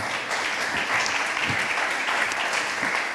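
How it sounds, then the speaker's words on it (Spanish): Applause from an audience at a fifth-anniversary event fills the whole stretch, a steady, moderately loud wash of many hands clapping with no voices over it. "Un aplauso para Andrea, por favor."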